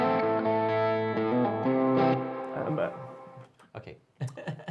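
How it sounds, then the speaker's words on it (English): A sustained electric guitar chord rings out with a washy reverb tail, then decays into a few scattered plucked notes and light handling sounds. "I give you some reverb for that."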